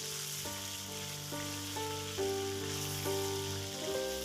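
Chicken meat frying in a pan, a soft hissing sizzle under a pattern of sustained tonal background hums, fairly quiet and continuous throughout.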